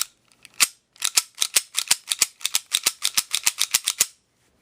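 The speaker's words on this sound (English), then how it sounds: "once you fire it, it makes a nice little tink" A toy or replica gun is cocked and fired over and over, giving a rapid, irregular series of sharp metallic clicks and tinks, close and crisp, with no talking.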